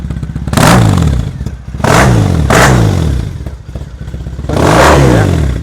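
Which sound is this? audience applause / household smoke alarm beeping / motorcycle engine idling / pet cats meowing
motorcycle engine idling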